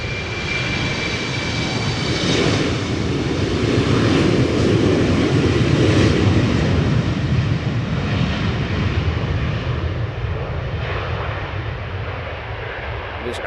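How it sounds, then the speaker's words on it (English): A 14-year-old KLM Embraer 190 jet roars on its takeoff roll from the runway threshold at Amsterdam Schiphol, a loud, sustained engine rumble with a whine that swells then gradually fades as the aircraft departs. "we have an Embraer 190 taking off from the runway threshold, KLM flight 1187"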